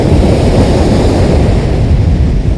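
Heavy Mediterranean surf roars continuously during a storm, a dense churning rumble of crashing waves with wind buffeting the microphone.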